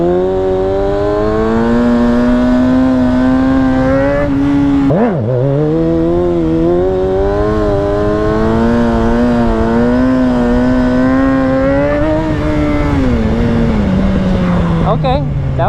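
A 636 stunt motorcycle engine held at a steady high rev during a handbrake wheelie, loud and close, pitch rising and dipping briefly midway, then easing down near the end.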